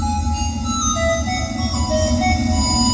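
A phone ringtone plays during a children's church comedy skit: a looping electronic melody of bright sustained tones rings out clearly over a low background rumble, with no talking.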